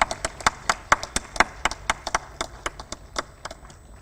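Audience at a university business management lecture applauding the guest speaker: scattered, crisp hand claps, fairly close, in an uneven patter from a small group.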